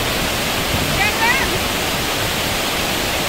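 The Matabuntu waterfall roars with a steady, loud wash of rushing water, a constant broadband hiss filling the whole scene up close, with faint bird chirps briefly heard.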